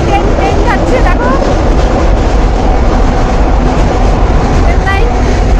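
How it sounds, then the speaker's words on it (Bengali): A train rolls across a bridge overhead above a picnic spot, a loud, steady rumble and rattle filling the whole stretch, with voices talking underneath. "আর ওপর দিয়ে ট্রেন যাচ্ছে"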